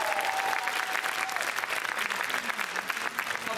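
Audience applause at the premiere of the film Biała Odwaga, a dense burst of hand clapping from a crowd, steady and fairly loud across the whole short stretch.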